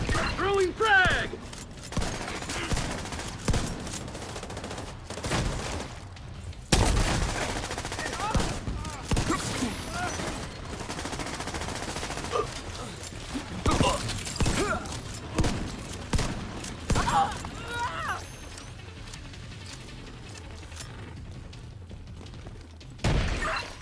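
Gunfire in Tom Clancy's The Division 2 as agents fight hostiles: repeated bursts of automatic fire and sharp shots crackle through a busy firefight, with a heavy blast near the middle, while voices talk over the shooting.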